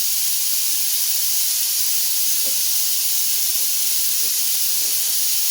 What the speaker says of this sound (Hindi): तीसरी विजिल बजने वाली है, फिर मेरी गैस हो जाएगी बंद